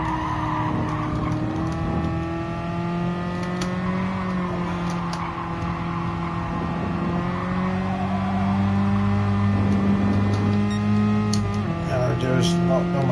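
1980s racing cars in a PS4 racing video game roar continuously with steady engine drone, tire squeal and skidding throughout, loud and unbroken with no pauses.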